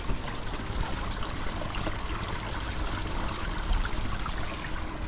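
A 17,000-litre-an-hour garden pond pump pushes water through a valve into a filter, giving a steady, close rushing and trickling wash of water with no pauses.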